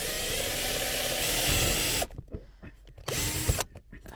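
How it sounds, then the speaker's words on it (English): A power drill bores a hole into a van's metal body for a diesel heater installation, two loud close bursts of drilling separated by a short pause with small clunks and handling noise. "So now the whole place smells like diesel, but I can drill a hole finally."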